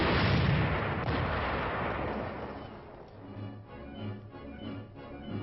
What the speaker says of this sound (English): The tank platoon's primary armament consists of 5 high-velocity 90mm guns